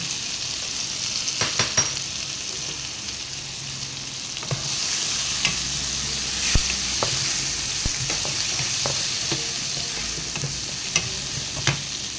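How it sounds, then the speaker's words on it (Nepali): Garlic and ginger sizzle steadily in a hot pan, a dense broadband hiss with occasional clinks and stirring scrapes, loud and close, rising slightly as the food is moved around partway through, with no voices. "जिन्जर यसलाई फ्राई गर्ने। राम्रोसँग फ्राई गर्ने।"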